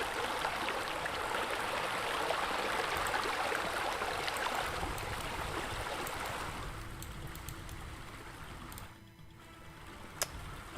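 Water running steadily in a backyard swimming pool feature, a loud continuous splashing rush that fills the scene, easing slightly toward the end.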